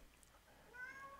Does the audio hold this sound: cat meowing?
yes